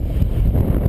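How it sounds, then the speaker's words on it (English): Wind gusts over a fishing boat near old Navy docks, rushing loudly across the microphone in a brief, dense burst of low buffeting noise. "It's getting windy out here."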